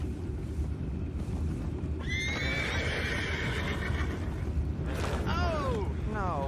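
Horses in the Red Dead Redemption 2 video game whinny twice, a long shrill neigh followed later by shorter squealing calls, over a steady low rumble of background noise.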